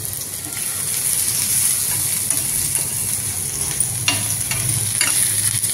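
Onion, coconut and garlic roasting and being stirred in a pan for a taro-leaf curry, a steady loud sizzle with scraping stirs throughout, close up and with no speech.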